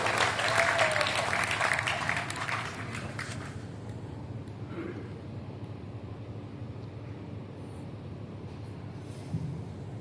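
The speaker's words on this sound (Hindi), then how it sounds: "एक बार जोरदार ताली बजा करके मुझे बताइए।" Applause from the audience at a Hindi poetry gathering, a kavi sammelan in Sojat, strong for the first few seconds then dying away into a low hum of the venue.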